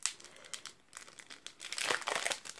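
Wrapping being crinkled and torn open from a gift package holding a dress on a small hanger, with close, soft rustling that builds louder toward the end.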